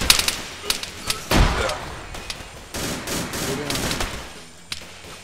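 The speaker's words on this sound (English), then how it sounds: "I got shot from behind" Gunfire in the video game Arma 3 during a jungle recon patrol mission, with bursts of rifle fire and sharp shots cracking at irregular intervals, one heavy thump standing out, and voices talking among the shots.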